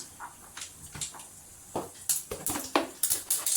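Mustard seeds and urad dal crackle and pop in hot oil in a pan while a pumpkin poriyal is being made, giving close, irregular sharp pops that grow denser and louder toward the end.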